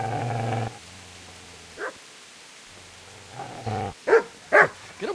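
Dog barks and growls in the medieval video game Kingdom Come: Deliverance, a low growl at the start followed by several sharp, close barks spaced out across the clip.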